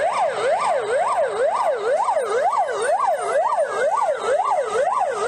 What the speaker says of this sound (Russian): Под звуки пожарной сирены команда огнеборцев подъезжает к театру оперы и балета.